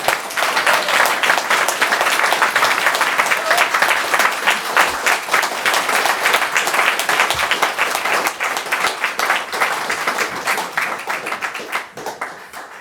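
A courtroom audience at a Munster session of the Dáil Éireann Courts in Kilfenora, Clare, gives a loud, sustained round of applause for Melissa, dense steady clapping that tapers off near the end.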